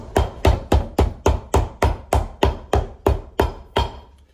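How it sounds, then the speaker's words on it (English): A hammer strikes leather on a dress boot, about fourteen sharp, evenly spaced blows at a steady rhythm, loud and close, then stops. "if you don't hammer properly, or you have marks on the end of your hammer, you'll get hammer marks on the actual leather"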